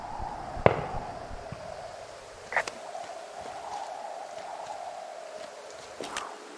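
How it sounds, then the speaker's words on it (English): Distant fireworks going off in the wilderness of the game Firewatch, a few sharp pops and crackles spaced out over a quiet outdoor ambience with faint whistling, no voices. "Those fireworks are going off to the west of you."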